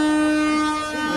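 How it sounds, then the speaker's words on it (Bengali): A train stopped at Kharagpur station sounds a loud, sustained horn before departing, a single strong, steady tone lasting about a second. "আমাদের ট্রেন ছাড়ার সময় হয়ে গেছে, হর্ন মেরে দিয়েছে ট্রেনে।"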